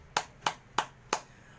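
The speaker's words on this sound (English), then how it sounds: "Let's clap your hands." Four crisp hand claps in an even, slow rhythm, close and fairly quiet, with no talking over them.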